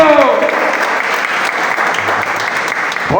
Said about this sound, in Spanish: Denle un aplauso a ese Dios maravilloso.